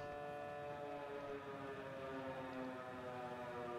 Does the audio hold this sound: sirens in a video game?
yes